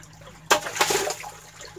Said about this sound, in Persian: آب از زیر میاد که داخل روستا رها میشه